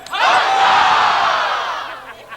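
A crowd roars a loud, unified cheer for the queen, one sustained swell of many voices rising quickly, holding, then fading out.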